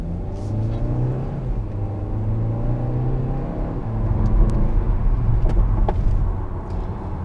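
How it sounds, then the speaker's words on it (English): The turbocharged engine of a 2020 Kia Soul GT-Line pulls away from a stop and accelerates, a steady rumbling drone heard from inside the car that swells toward the end, with no talk. "So you can really hear that engine go"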